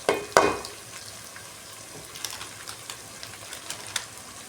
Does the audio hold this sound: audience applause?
no